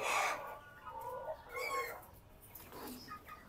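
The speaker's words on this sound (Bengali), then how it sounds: "মুরগি তো খেক করে, মানে ঠান্ডা আছে" Chickens with a cold on a poultry farm give short, raspy coughs and clucks, a few at a time, close by and fairly faint, with no talking.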